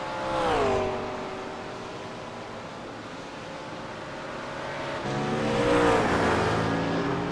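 Race cars in a sim racing game of a Blancpain Sprint Series event at Circuit Gilles Villeneuve roar past at the hairpin, engines sweeping up and down in pitch as one car passes early and another pair swells in near the end.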